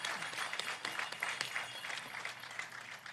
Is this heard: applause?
yes